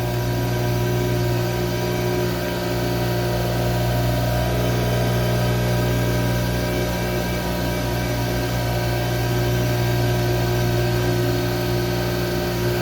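A CNC mill cutting with a 3/4 inch three-flute carbide end mill gives a steady, unbroken machining drone with constant tonal whine and no pauses.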